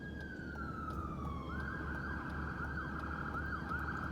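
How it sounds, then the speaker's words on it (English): An ambulance siren wails in a distant street in Sarnia, Ontario, its tone sliding down and then holding steady over the low rumble of traffic. "Oh, it's an ambulance."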